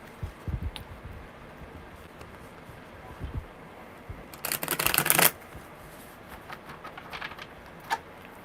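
A deck of tarot cards shuffled during a live reading: one strong riffle lasting about a second, followed by faint card clicks and taps in a quiet room.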